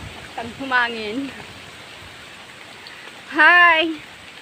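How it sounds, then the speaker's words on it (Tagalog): Rain falling during a hike up a mountain, a steady soft hiss throughout while a voice speaks in two short bursts over it. "Maulan na. Naabutan na ng ulan."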